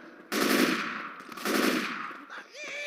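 Loud bursts of rapid automatic gunfire from the first-person shooter Left 4 Dead, two sustained volleys separated by a short pause, with a faint ringing tail at the end.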